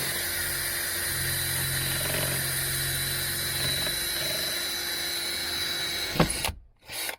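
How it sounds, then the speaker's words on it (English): A power drill fitted with a small bit runs steadily into scrap metal while fitting door openers on a Can-Am X3. It gives a continuous, fairly loud whir and grind with a low hum that stops abruptly near the end. "You just go ahead and start drilling with this"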